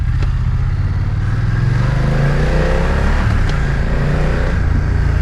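A BMW F 900 R motorcycle engine running steadily up close, a deep throbbing rumble with rattling mechanical clatter and a slight shift in pitch as it revs.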